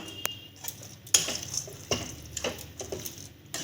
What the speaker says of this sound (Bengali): বাদামটা দিয়ে দেবো আর সব মিক্স করে দেবো